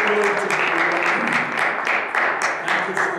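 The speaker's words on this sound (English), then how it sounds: "Can we clap our hands for one more time?" A church congregation claps their hands together in sustained applause, a dense, loud patter of many hands with steady rhythmic bursts and a faint hum of voices underneath.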